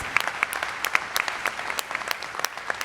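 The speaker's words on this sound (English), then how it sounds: "let's give one more big round of applause for both the startups and our judges" Faint, steady audience applause at a Forbes startup demo day event honoring the startups and judges, a soft wash of many hands with some sharper individual claps standing out, heard from a distance.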